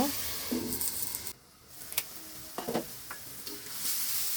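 Thinly sliced radish frying in a pan while being stirred, giving a soft steady sizzle broken by intermittent scraping and clinks of the spoon against the pan, with a brief quieter gap partway through.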